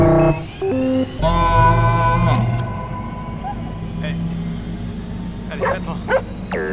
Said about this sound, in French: C'est juste un chien.